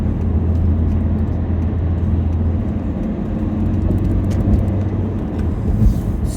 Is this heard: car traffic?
yes